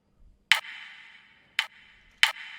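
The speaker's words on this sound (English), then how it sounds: "Now for the drum part, I added a simple snare." Simple snare pattern in a trap beat, three sharp crisp hits with short ringing tails, spaced unevenly and alone with no other instruments or talking.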